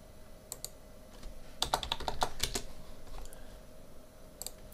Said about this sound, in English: I'm just going to type in 1 second, hit Enter, and then click OK.